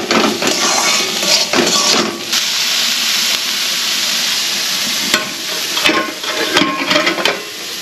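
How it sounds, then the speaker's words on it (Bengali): Food fries in a kadai while a spatula stirs it, producing a loud, continuous sizzle and steamy hiss broken by scraping, clattering strokes against the pan. "এদিকে কড়াইটা ভাজা হচ্ছিল, আবার একটু নাড়াচাড়া করে দেবো"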